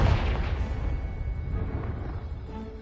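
A Confringo spell blast in Hogwarts Legacy aimed at a pile of debris blocking a stairwell: a single deep booming burst at the start, fading into a rumbling, crackling decay.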